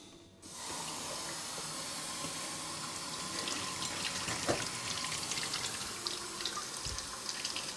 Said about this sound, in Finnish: mä teen niille vähän semmoisen nopeamman huuhtelun